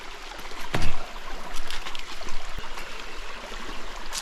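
Vehicle fording a river crossing on El Questro Station along the Gibb River Road, with rushing water splashing steadily around it and a brief heavier surge near the start.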